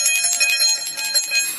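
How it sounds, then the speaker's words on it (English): A small bell worn around a cartoon character's neck jingles rapidly and repeatedly, bright and close, in a continuous rattling shake with no talking. "Is that a bell on your neck?"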